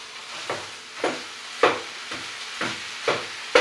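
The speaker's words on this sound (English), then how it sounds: "When you brown meat, you just want to kind of continuously stir it about, chopping up the big chunks" Lamb or beef mince browns in a pan with onions while a utensil scrapes and stirs through it in regular strokes about every half second, each stroke a short rasp over a soft, faint sizzle.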